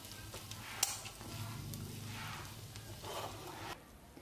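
Fried pork skin with pepper is stirred in a pan, a soft continuous sizzle with scraping strokes, close and quiet, with one brief metallic click near the start.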